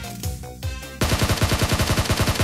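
Gunfire in a shooter video game: a short pause, then a rapid burst of close, loud shots in an even automatic rhythm.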